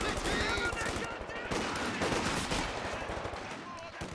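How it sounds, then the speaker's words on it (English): Rapid machine gun bursts crackle almost without pause from a Company of Heroes 2 World War II battle, dense and sustained over a busy wartime soundscape. "this machine gun also coming through the centre"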